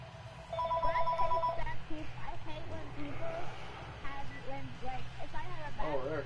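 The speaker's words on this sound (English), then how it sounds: "I got a phone call" A telephone rings with short electronic ringtone bursts early on, partly buried under ongoing talk and sports broadcast audio.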